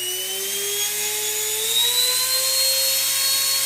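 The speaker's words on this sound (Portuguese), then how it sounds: "Talvez pelo barulho da rotação vocês vão perceber que a velocidade está no máximo" A universal series DC motor runs at maximum speed on 120 volts, giving a steady high-pitched whine with rising tonal harmonics, close and continuous with no talk.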